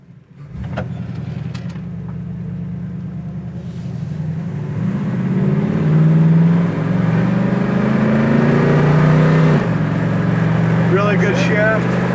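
1967 Pontiac Firebird convertible accelerating through its gears, the engine note climbing and dropping at each shift under steady road rumble, recorded from inside the car, with people talking over it.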